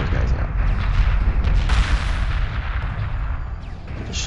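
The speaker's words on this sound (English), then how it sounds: "The destruction, the explosions are just amazing." Continuous loud rumbling booms and crackling blasts from a battle in the space strategy game Homeworld Remastered, dense low-end impacts overlapping one another with a brighter burst midway.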